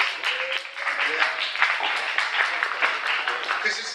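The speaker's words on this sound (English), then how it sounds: "for all of you to give yourselves a round of applause" Applause from attendees at a business talk on diversity and inclusion, a moderate, fairly sparse round of clapping with voices and cheering mixed in underneath.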